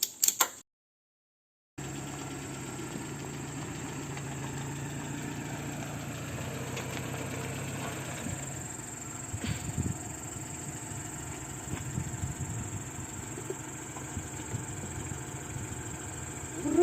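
A vehicle engine drones steadily while driving with beehives to a phacelia field in Ulyanovsk region, a constant low hum with faint road noise and occasional knocks, and no one talking.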